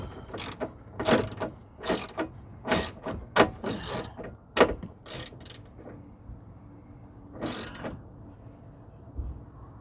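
A ratchet tightening bolts on a 2007 Ford Escape XLT during an antifreeze change, several quick bursts of sharp clicking close by, followed by a quieter pause and one last short burst.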